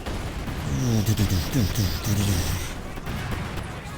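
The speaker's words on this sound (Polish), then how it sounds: "wybuchła eksplozja." Heavy booming explosion blasts and rumbling gunfire-like bursts in a video game, in a dense, loud cluster, fading into rough background noise toward the end.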